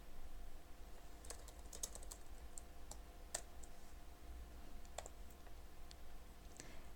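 Keys on a computer keyboard tapped to type a comment, a few quick quiet clicks in short bursts with pauses between them, close up over faint room hum and no speech.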